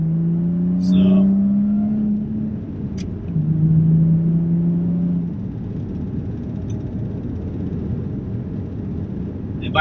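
A manual Kompressor car engine rises under acceleration with climbing tones, then drops as the throttle is lifted for a gear shift before revving again, with a steady rumble and wind noise underneath.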